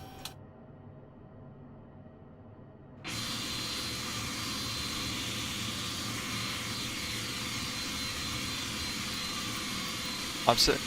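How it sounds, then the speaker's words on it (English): An MD-11F freighter's jet engine starts up in Microsoft Flight Simulator: near silence gives way abruptly to a steady, broad whooshing roar that holds level, with a brief click near the end. "I want to confirm good engine start."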